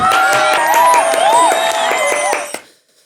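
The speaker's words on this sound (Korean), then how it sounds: "축복의 박수로 축하해 주었으면 좋겠습니다" A church congregation claps together for a family expecting their third child, with cheering and whoops over steady applause for about two and a half seconds before it stops sharply.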